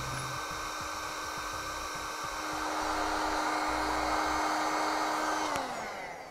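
A heat gun shrinks heat-shrink tubing on trailer brake controller wire connections on a 2007 Jeep, blowing a steady, close whine and rushing airflow that rises slightly in the middle, then winds down near the end.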